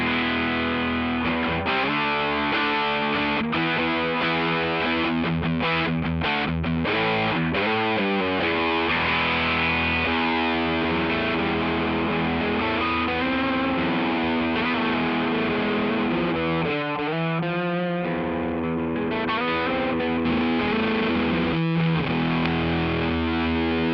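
1981 Ibanez AS100 hollow-body guitar with humbucker pickups played through a JHS Kilt overdrive and fuzz pedal, thick distorted chords and riffs ringing out loudly with sustained notes and brief stops, no talking.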